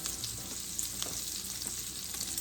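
Sausage sizzling in a cast iron pot while being stirred, a steady close crackle of frying fat with small scraping bursts from the spoon.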